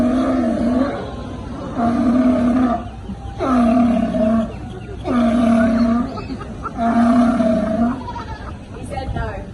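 Seal at a Taronga Zoo seal show in Sydney giving five loud, drawn-out honking barks in an even rhythm, close and forceful, with brief pauses between calls.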